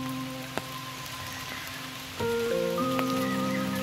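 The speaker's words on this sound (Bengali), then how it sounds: "তবে বৃষ্টিটা না হলে বেশি ভালো হতো, বৃষ্টিটা হয়েই সমস্যা হয়ে গেল" Steady rain falls in a forest near Kolkata, a continuous close patter on leaves and ground, with a few brief tonal sounds and a slight rise in intensity partway through.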